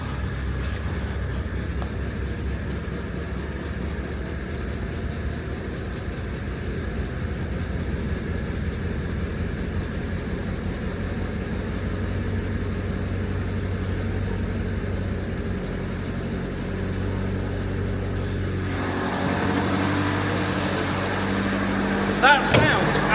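Classic Renault R16 engine starting on extra choke and settling into a steady, loud running note, with a voice briefly heard over it near the end.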